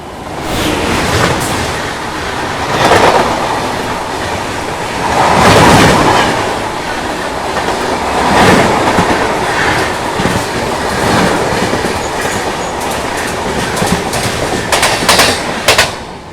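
Train 15128, the New Delhi to Banaras Kashi Vishwanath Express, thunders past at close range, a loud continuous roar with steady clickety-clack of wheels over rail joints throughout.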